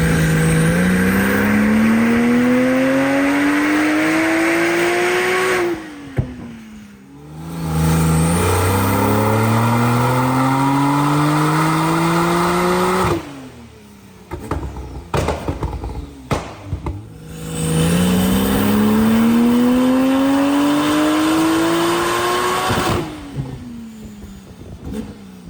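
A tuned Porsche 992 Turbo S accelerates hard in a street race, its loud engine climbing through repeated gear pulls with rising pitch, brief pauses between runs and wind roar.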